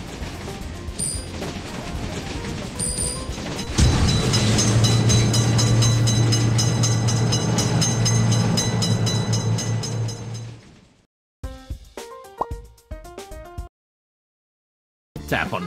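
A train rumbles loudly through a railroad crossing in a simulator video game, a steady low roar with clattering wheels building and holding for several seconds before cutting out abruptly, followed by short bursts of game sounds.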